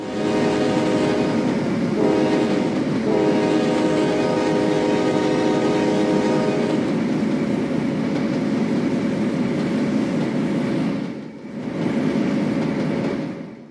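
A CSX freight train hauled by GE Evolution locomotives roars past at a junction, a loud steady rumble with screaming engine tones and wheel noise that briefly dips near the end before resuming.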